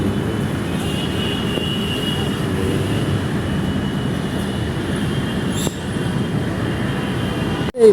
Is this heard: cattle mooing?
no